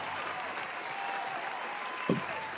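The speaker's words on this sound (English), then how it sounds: "Round of applause." Applause on a podcast set, a dense, even patter of clapping at moderate level, with a brief sharp knock or thump near the end.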